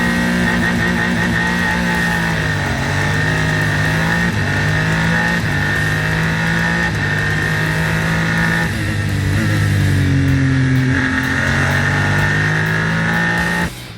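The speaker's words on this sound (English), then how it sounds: "Pole sitter Nomura got a good start" Super Formula Lights race cars accelerating off the start at Okayama, a loud, continuous engine roar with pitch climbing and shifting as the pack pulls away, with no talking.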